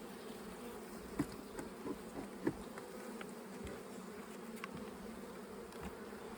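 A steady, close hum of honey bees fills the air as small salvage colonies are combined, with a few faint clicks and taps scattered through the drone.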